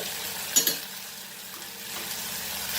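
Cafreal masala sizzles in a pan for a quail curry, a soft, steady frying hiss. Two quick clinks of a utensil on the pan come early, then quieter stirring, close by with no talking.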